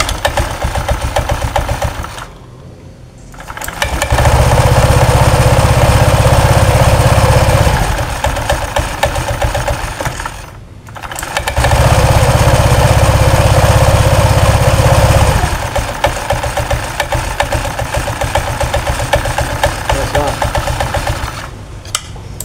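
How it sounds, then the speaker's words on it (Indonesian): A Honda Vario 125 scooter engine runs steadily, revving up and down in long swells with brief dips, a faint squeak from the dry CVT bushing riding in the drone, with occasional voices nearby. "jadi kesimpulannya ini muncul suara tikus di bagian CVT"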